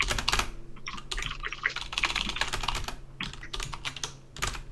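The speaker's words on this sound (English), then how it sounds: "now that I'm like started typing" Rapid, close-up clatter of keys being typed on a computer keyboard, a steady stream of crisp clicks with brief pauses between bursts.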